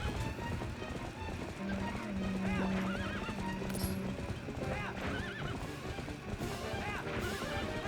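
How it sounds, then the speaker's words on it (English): A horse in the video game Twilight Princess gallops with rapid, continuous clip-clop hoofbeats and whinnies loudly, with other game sounds and a voice speaking underneath. "I almost got knocked off my horse."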